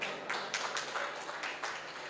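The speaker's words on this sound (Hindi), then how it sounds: "तो एक बार इंडियन मार्केट के लिए भी जोर से तालियां बजाएंगे" An audience at an investment convention claps together, a dense burst of applause with sharp irregular hand claps that stays fairly quiet and distant, with no talking over it.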